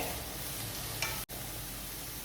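Chicken broccoli curry with sliced bitter gourd being stirred in a pan, a steady close sizzle with a brief scrape partway through.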